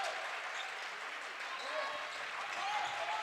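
A boys high school basketball crowd's student section claps in a dense, steady wash through the gym during the opposing offensive possession, loud and continuous beneath the murmur of the arena.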